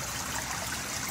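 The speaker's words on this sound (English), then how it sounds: "The waterfall" A small waterfall in an indoor koi pond within an Asian-style interior garden, a soft, steady splashing hiss of falling water that continues evenly and quietly without any voices.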